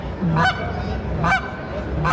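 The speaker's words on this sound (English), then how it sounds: "Now on the honk, I'm just dragging out that first part" Three drawn-out honks from a goose call repeat at an even pace, loud and close, with a low breathy sound between them.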